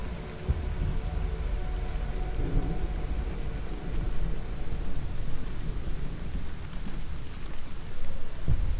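Rain and rolling thunder in the video game Hellblade VR, a steady dense wash of rainfall with low rumbling swells throughout, fairly loud and continuous with no talking.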